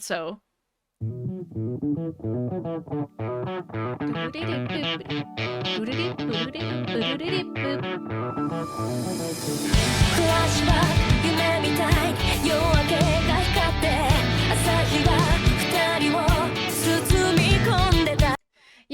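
A song plays as a full band track with steady drums, the second half swelling louder with dense cymbal and hi-hat wash, and a brief voice at the start.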